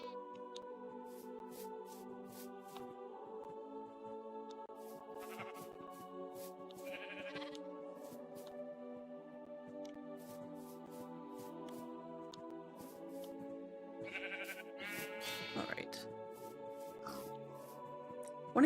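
A young sheep gives sustained, wavering bleats, several long calls in sequence at moderate distance, with a few sharp higher cries near the end in an otherwise quiet setting.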